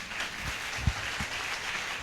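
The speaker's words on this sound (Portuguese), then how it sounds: "dá uma forte salva de palmas ao Senhor" A church congregation applauding during a service, a continuous wash of clapping with a few louder nearby claps standing out, no speech over it.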